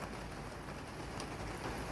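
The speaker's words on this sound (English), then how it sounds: "Started filling my wheelbarrow up and it's absolutely chucking it down." Heavy rain pours down outdoors over a garden pond dig, a loud, dense, unbroken hiss of downpour with no voices.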